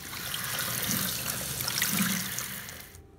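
Short burst of running tap water as vegetables such as carrots, broccoli, peppers and zucchini are washed, a close, steady rushing stream that cuts off abruptly at the end.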